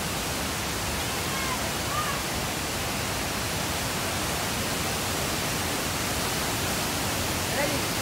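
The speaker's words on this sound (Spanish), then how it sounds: "Aquí vamos llegando a lo que es el río." Panaluya waterfalls on the river at Río Hondo, Zacapa, Guatemala, roaring as a steady, dense broadband rush of falling water that fills the whole scene evenly from start to finish.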